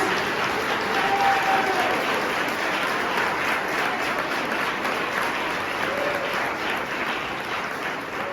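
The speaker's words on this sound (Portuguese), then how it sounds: "Se você crê nessa palavra, aplauda o nome de Jesus." Sustained applause from a large church congregation praising Jesus, steady and dense for several seconds, tapering slightly toward the end with no clear speech over it.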